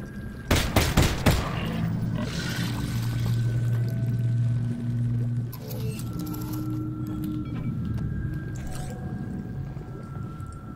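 Rapid burst of gunfire from Half-Life: Alyx, several sharp close shots in quick succession near the start, followed by a low droning in-game hum and scattered mechanical noises.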